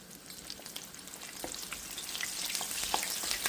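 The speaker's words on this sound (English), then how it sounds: "let's see if this does any better, just deep frying them." Corn taquitos deep frying in oil in a cast iron pan with a basket: a steady, bubbling sizzle with dense crackles and pops that grows slightly louder toward the end, with no voices.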